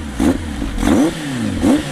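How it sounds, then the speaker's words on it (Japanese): A Kawasaki Zephyr 750 motorcycle with an FCR 35mm carburetor and full exhaust starts and revs up close, with three loud throttle blips rising and falling over a rumbling idle. "じゃあエンジンかけていきたいと思います"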